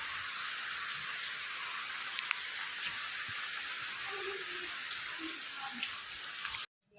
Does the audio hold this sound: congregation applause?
no